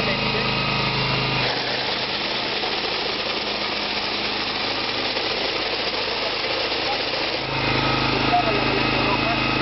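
A BCS 738 two-wheel tractor with an 8 HP engine and sickle bar mower runs close by, its steady engine drone rising as it accelerates.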